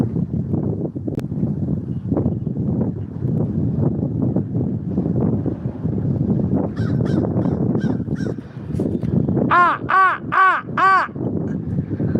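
Wind rumbles over a muffled background, then a burst of several loud crow caws rings out close by in quick succession near the end.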